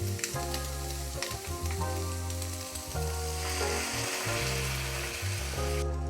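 Ham frying in a pan, a steady close crackling sizzle with juices sticking to the bottom, continuous and even throughout with no voices.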